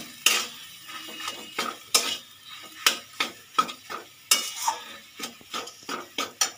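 Mashed potato being stirred in a frying pan for egg chop, with repeated sharp scrapes and clinks of a utensil against the pan in an irregular rhythm, close and fairly loud, with no talking.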